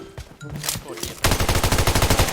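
FAMAS rifle fire in PUBG Mobile: after a few scattered shots and game noises, a loud, rapid automatic burst of evenly spaced cracks fills the second half, close and dominant.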